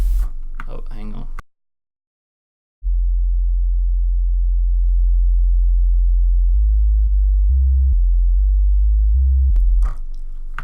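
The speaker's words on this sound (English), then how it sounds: "So we have the sub bass now." A sine wave sub bass synth patch played in Serum, deep smooth low tones holding and shifting pitch across several notes after a brief gap, with bits of talk at the start and end.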